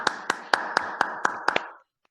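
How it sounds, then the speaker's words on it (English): Audience applause after a club speech at an online meeting comes as eight evenly spaced sharp claps over a soft background wash, close and fairly loud, ending abruptly into silence. "Let's applaud Thando with a great speech about the Monkey King"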